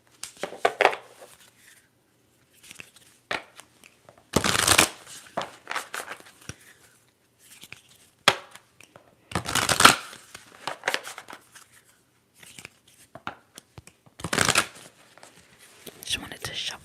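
Tarot cards are shuffled in several short crisp bursts, riffling and slapping close up, separated by pauses with soft speech between them.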